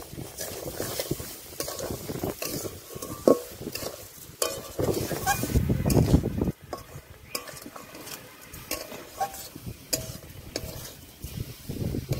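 Raw mango being mixed with sugar in a bowl for a sweet laddu, a steady scraping and clinking stir with irregular taps of spoon against the dish, close and moderately loud, no talking.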